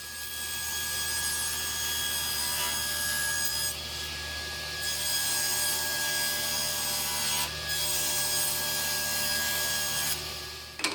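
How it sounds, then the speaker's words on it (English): Plywood is sanded in a workshop with a steady, continuous abrasive rasp that holds at an even level for the whole stretch, with a few brief brighter scratches along the way. "Always a good idea to do a little bit of sanding before you glue, especially on plywood"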